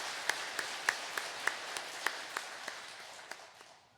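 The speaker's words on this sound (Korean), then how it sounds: "본당 신부님을 위해서 큰 박수 한번 쳐주세요." A church congregation applauds the parish priest at a Sunday Mass: sparse, scattered hand claps at a steady, slow pace, faint and distant in a reverberant room, with no talking.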